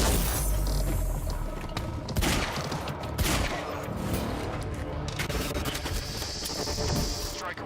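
Gunfire in the video game Quantum Break, dense bursts of shots with shattering debris and mechanical clatter, loud and continuous across the whole stretch.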